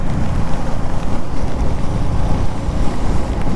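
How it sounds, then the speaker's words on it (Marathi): The Godavari river, swollen and flooded after days of continuous rain, rushes past in a loud, continuous turbulent roar, close to the microphone with some wind buffeting and no voices. "फुल भरून चाललेले आहे गोदावरी नदी."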